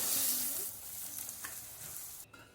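Tomato and garam masala cook in oil in a pan over a low gas flame, giving a soft, steady sizzle with faint stirring scrapes, close but quiet.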